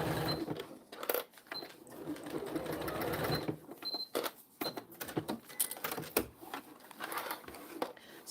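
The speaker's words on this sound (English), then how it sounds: "I'm just going to stitch down the side as well at the same time" Sewing machine, fitted with a walking foot, stitching through a vinyl zippered pouch in bursts of rapid mechanical clatter, pausing briefly between runs, close and steady.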